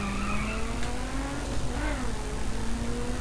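In The Crew video game, a car engine revs toward the red line, a steady whining tone that climbs slowly in pitch over a constant noisy rumble.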